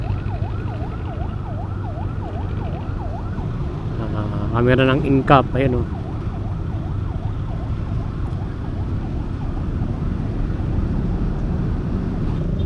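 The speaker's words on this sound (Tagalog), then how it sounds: "Padaanin ang ambulansya no mga kaobs." A wailing ambulance siren sweeps up and down steadily throughout amid loud Metro Manila traffic noise, with a brief burst of horn-like tones and a few spoken words in Filipino partway through.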